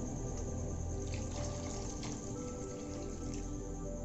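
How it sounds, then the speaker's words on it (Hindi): About four glasses of water are poured into a wok to boil potatoes, giving a steady, close splashing and gurgling with no pause. "बॉईल करने के लिए हम इसमें 4 गिलास पानी डालेंगे"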